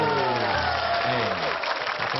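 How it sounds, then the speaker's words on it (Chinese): A studio audience gives a short burst of applause on a variety game show, steady clapping throughout, with a presenter's voice sounding over it. "掌声鼓励"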